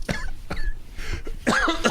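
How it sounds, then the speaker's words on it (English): Harsh coughing fits from a voice in a tabletop role-play session, three or four rough bursts spaced across the stretch, the last one loudest and raspiest, close and clear. "coughing it all up"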